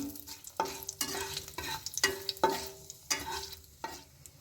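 Whole spices (cinnamon, bay leaf, cloves, cardamom) and chilies fry in oil for a Bengali bhetki kalia, with repeated sharp stirring scrapes over a steady low sizzle, close and alone.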